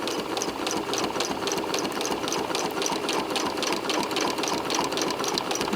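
A sewing machine quilting around an embroidered applique runs continuously at a steady fast stitching rhythm, close and even, with no talking.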